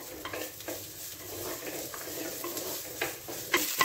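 Brinjal sautéing in cold-pressed peanut oil, stirred with a spoon: soft, repeated scraping strokes over a continuous gentle sizzle, close and moderately quiet, with a couple of sharper clinks near the end.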